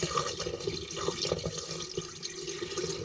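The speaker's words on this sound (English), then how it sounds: "then we just simply pour it down the drain" Antifreeze poured from a cup down a travel trailer drain during winterizing, giving a steady close liquid splash and gurgle with small clicks throughout, no talking.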